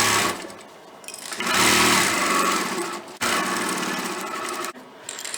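A sewing machine runs in steady bursts while stitching a pillow cover close to the edge of the presser foot, its motor buzzing loudly with brief pauses and speed changes between runs.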